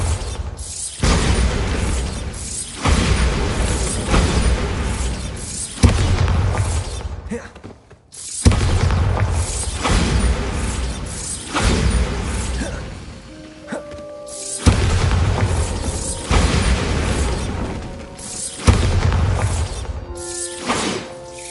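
Repeated Bombarda spell explosions in Hogwarts Legacy, loud crashing blasts arriving in a series of bursts every few seconds, each followed by clattering debris and mechanical rattles, with brief tonal game sounds between them.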